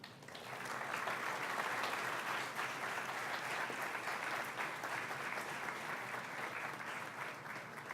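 Sustained applause from an auditorium audience at a university inaugural lecture welcomes the speaker, rising quickly and staying full and even for several seconds, with no talking over it.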